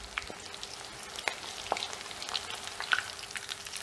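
Jackfruit seed murukku frying in hot oil makes a faint, soft bubbling crackle broken by a few sharp, scattered pops.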